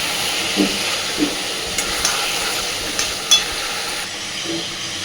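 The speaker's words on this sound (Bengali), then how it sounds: "মাথাটা দেওয়ার পরে একটু সময় নিয়ে সুন্দরভাবে মাথাটা চালের সাথে আলুর সাথে কষে নেব" Fish head is stirred and sautéed with rice and potatoes in a pan, giving a soft steady hiss broken by a few faint scraping stirs.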